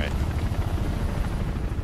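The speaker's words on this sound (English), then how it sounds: "There's a freaking helicopter" A helicopter in the video game Mirror's Edge thrums with a loud, steady rotor drone throughout, with someone talking over it.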